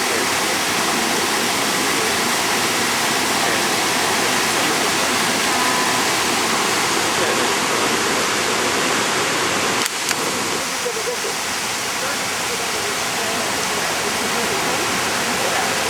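Rushing river water roars steadily and loud throughout beside an old disused crossing on a trek in Albania, a dense unbroken wash with a brief knock near the middle.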